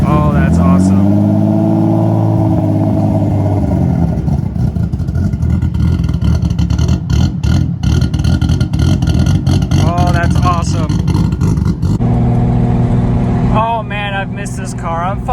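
A 1957 Ford Thunderbird V8 idles and revs up close and loud after starting, its throb rising and settling with throttle blips, while a voice talks over it.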